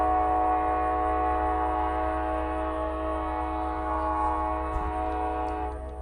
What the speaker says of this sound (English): Ah, the train.